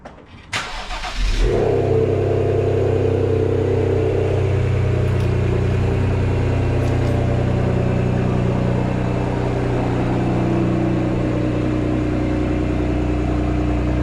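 A 2022 Ford Explorer ST cold-starts with a brief starter crank and sharp catch, then settles into a loud, steady, rumbling idle close by.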